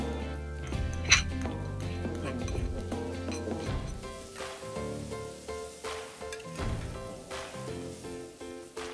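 Onions drop into hot fat in a pot and fry with a soft steady sizzle, while utensils clink and scrape against the pan in a close kitchen setting.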